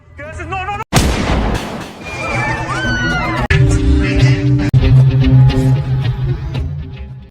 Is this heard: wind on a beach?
no